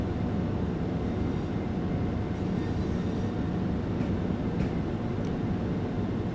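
Train pulling away from a station in Train Sim World 5 on the Brighton line, a steady low rumble and drone of the moving train with faint higher clicks, continuous and fairly loud, no talk.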